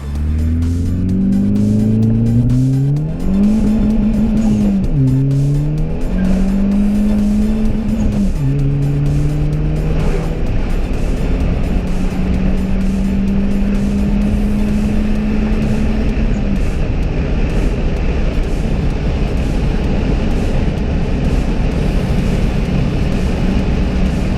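Tuned Fiat Panda running on LPG, engine revving repeatedly with rising and falling pitch sweeps, then settling into a steady high drone under constant loud road and exhaust noise.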